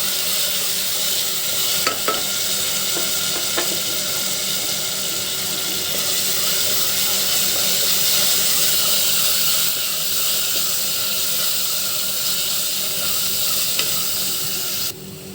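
Ginger garlic paste fries in a pan with a loud, continuous hiss that holds steady throughout, dotted with a few faint clicks of stirring, close up and without any voices.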